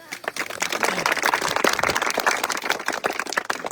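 Audience clapping and applause at a night mini football tournament event in Birakhai, dense and continuous for the full stretch, fairly loud and close, with a voice faintly mixed in.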